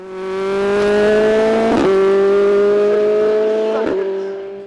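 A Formule Renault single-seater screams up a hill climb course at Marchampt, its loud high-revving engine holding steady notes broken by two quick upshifts.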